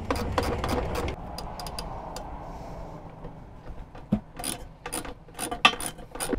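A 3/8 inch ratchet snugs down the screws on an RV toilet base, heard as short, close bursts of clicking pawl strokes with pauses and some handling noise between them.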